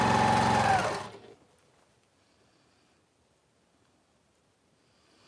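A sewing machine stitching quilt squares, running loud and close for about a second before cutting off into near silence.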